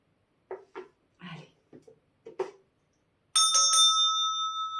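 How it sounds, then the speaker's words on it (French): Several short soft sounds come first, then a bright bell rings out, with a few quick clear strikes that leave a long, ringing tone sustaining loudly to the end. "Il est l'heure, vous dit la cloche."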